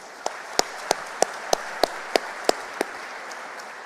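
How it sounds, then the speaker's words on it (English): Scattered claps for new students at a Madrid welcome event, just a few sharp, evenly spaced hand claps, fairly close, against a quiet room. "let's have a round of applause for you guys."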